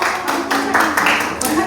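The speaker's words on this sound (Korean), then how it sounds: "우리 제시카 권사님께 큰 박수 주시기 바랍니다" Applause from a church congregation during a Sunday service, a short patter of clapping heard under a voice speaking.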